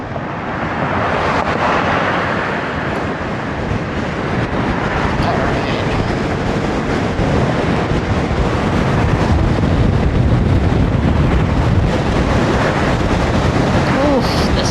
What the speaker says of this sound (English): and my jacket catching the wind